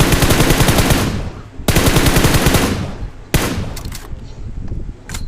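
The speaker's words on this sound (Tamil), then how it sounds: "அதான் இங்க ஏதோ ஃபயர் சவுண்ட் கேட்டுதுடா." Automatic gunfire from PUBG Mobile, loud and close, with long sustained bursts and a few short pauses between volleys.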